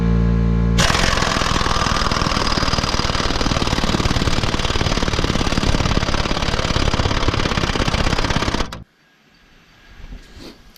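Power tool cutting through frozen bolts, a loud, harsh continuous grinding roar lasting about eight seconds before cutting off abruptly, leaving faint background noise.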